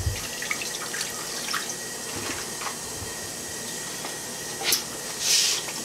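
Faint trickling and dripping of spring water poured into a container for making mead, with a few brighter splashy bursts near the end over a quiet background.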